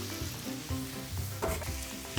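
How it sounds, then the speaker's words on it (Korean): Chop steak, flipped and browned on one side, sizzles with added garlic in a frying pan, a continuous close crackling fry with a few stirring bumps and no voices. "한쪽만 노릇하고 이제 뒤집어준 건데 이럴 때 마늘을 좀 넣어주세요"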